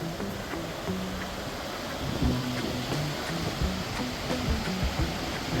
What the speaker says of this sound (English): We got this beautiful milky river.